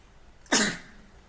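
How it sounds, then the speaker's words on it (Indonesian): A single sudden sneeze bursts out during a computer-lab tutorial, a sharp, breathy explosion that fades quickly into quiet room noise. "Mohon maaf ya, bersin."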